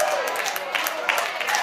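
Scattered, half-hearted clapping from a church audience sounds in a brief, uneven patter of a few hands.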